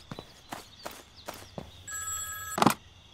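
A telephone rings in the video game Thief Simulator 2, a short bright electronic ring near the end, following several soft footstep-like thuds; no one speaks.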